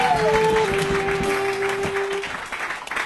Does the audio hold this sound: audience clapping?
yes